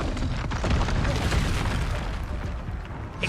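A Confringo blasting spell bursts in the PS4 game Hogwarts Legacy: a loud, close, booming explosion that rumbles on and slowly fades over about three seconds.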